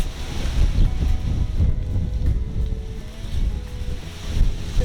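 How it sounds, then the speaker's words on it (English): Gusty wind buffets the microphone in a garden, a continuous low rumble rising and falling in waves with no voices. "It's a bit windy here."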